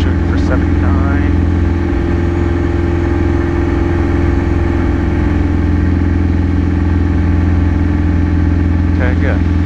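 Piper Warrior II PA28 piston engine at full power during the takeoff climb, a loud steady droning roar with a strong low hum throughout, while a voice talks briefly over it.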